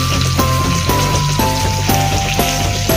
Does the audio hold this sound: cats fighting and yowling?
no